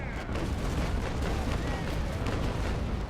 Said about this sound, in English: A lot of cannonballs up his bow.